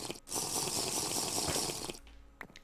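Water in the video game Nova Arcana rushes and splashes steadily for about two seconds, loud and hissy, then cuts to a quieter stretch with a faint low hum and a few small clicks.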